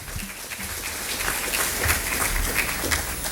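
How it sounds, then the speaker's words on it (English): Scattered clapping from a small dinner audience, building into steady applause that carries on throughout. "Let's give it a round of applause for Len Beckler."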